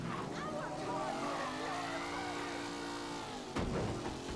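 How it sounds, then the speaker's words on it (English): A car engine in Mafia 3 drones steadily at mid revs with rising and falling pitch, then a sharp knock near the end, under continuous background game sound. "Okay, this car sounds a lot better."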